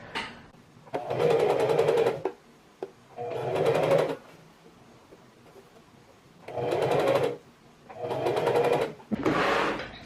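A sewing machine stitches the seams of a mini dress in four bursts of rapid, even whirring, each about a second or so long and separated by short quiet gaps, close and clear with no voices.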